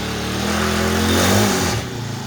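Small gas engine on cheap power equipment running with the choke off, a close, loud mid-pitched drone that swells briefly as revs rise, then settles back to a steady idle.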